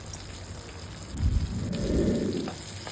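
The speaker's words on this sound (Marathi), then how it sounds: "त्यामध्ये कांदा आणि ढोबळी मिरची घालून घेतली आहे आणि ती मिक्स करून घेऊया." Chopped onion and bell pepper sizzle in a hot pan for restaurant-style crispy chili chicken, a steady close hiss that swells as the vegetables are stirred and tossed, with no voices.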